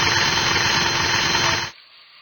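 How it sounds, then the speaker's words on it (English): Surgical drill boring a hole into the femur to mount the distal femoral cutting jig during knee replacement surgery, a loud, steady grinding whir that runs continuously and then stops abruptly. "A hole must be drilled inside the femur to set up the distal femoral cutting jig and alignment"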